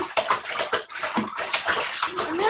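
Water splashes and sloshes in irregular bursts during a baby's bath, close and fairly loud, with bathtub slapping sounds over about two seconds.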